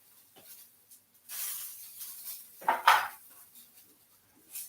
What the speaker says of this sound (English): See if I can cut that one in